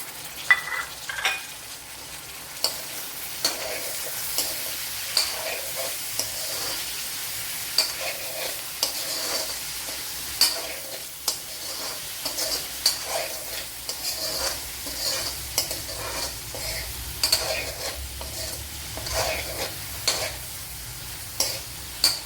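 Chopped tomatoes sizzle steadily in a hot pan of potato and okra masala, with frequent scraping stirs of a spoon against the pan and no talk.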